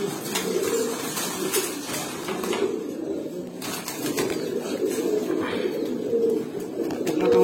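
Several pigeons, sold alongside Pankhi, Grizzle and Baghdadi Homa breeds, coo steadily and softly in a low, continuous murmur throughout, close by with mild background noise.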